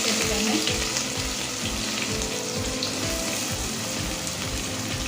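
Chopped onion goes into hot oil with cinnamon and other whole spices and cashews for brinji rice, sizzling and crackling loudly and steadily, with rhythmic stirring scrapes from a spoon in the pan throughout.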